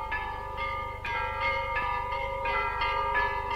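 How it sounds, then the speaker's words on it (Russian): Church bells ring out from the cathedral belfry in Rostov Veliky during a bell-ringing festival, with evenly spaced, resonant strikes whose long tones overlap and sustain. "Звонят в Ростове колокола."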